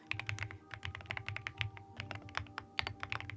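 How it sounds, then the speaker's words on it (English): Slow, deliberate typing on a thocky marshmallow mechanical keyboard, each keystroke a distinct muted clack in an unhurried, uneven rhythm, close and clear with no voices. "for keyboard ASMR, I do slower typing because this is specifically for the sound of the keys"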